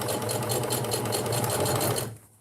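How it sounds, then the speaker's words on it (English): A sewing machine runs steadily at a fast, even whir, close by and loud, then stops abruptly near the end. "my sewing machine is loud"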